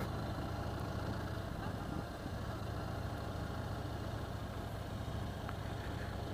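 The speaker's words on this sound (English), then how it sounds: "It's got that V-twin thump, obviously." A V-twin motorcycle engine idles continuously at moderate distance at a trade show, a steady, low rumbling, constant throbbing drone with no speech.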